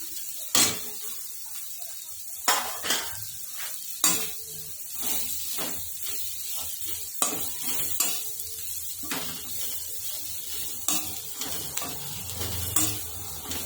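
Taro (arbi) frying in a spiced tempering in a pan, with a steady sizzle under repeated sharp scrapes and clinks of a stirring spoon against the pot.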